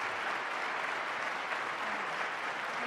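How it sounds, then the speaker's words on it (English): A lecture-hall audience applauds a panel on presidential power, giving an even, continuous patter of many hands clapping at a moderate, slightly distant level with no pauses or voices on top. "join me in giving one more round of applause to the panel"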